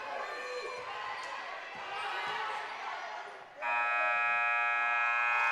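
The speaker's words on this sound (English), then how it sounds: "Hicks with a 3-pointer right at the buzzer" A long, loud buzzer ends a basketball game at a regional tournament, cutting in sharply over court noise and crowd chatter and holding steady until the clip ends.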